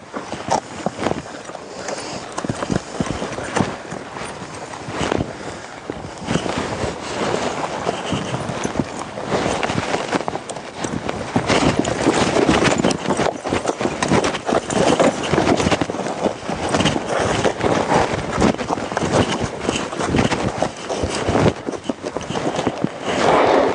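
Steady hoof clops of a horse walking, close by and continuous against a broad rustling background, with no talking.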